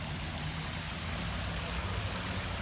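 Artificial waterfall in Thonburirom park, a steady, dense rush of falling water that stays even and continuous throughout, close and fairly loud with no voices over it.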